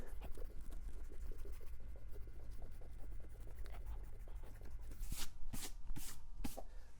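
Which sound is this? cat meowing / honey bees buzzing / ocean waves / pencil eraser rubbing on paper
pencil eraser rubbing on paper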